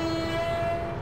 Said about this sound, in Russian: вот гудок